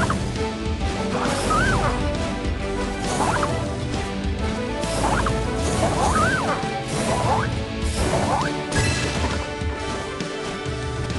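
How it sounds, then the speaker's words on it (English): Dragon fireballs whooshing and smashing castle targets in PAW Patrol Rescue World, a repeated cycle of swooping tones and crashing impacts roughly every two seconds over cheerful game music. "Tap a target to shoot a dragon fireball at it. Aim right and try to break as many targets as possible."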